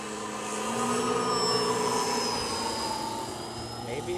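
Engine drone of a flying Champion Xtreme Decathlon 122-inch RC model plane with vibration issues, a steady buzzing tone with shifting harmonics that rises and fades slightly, with no voices over it.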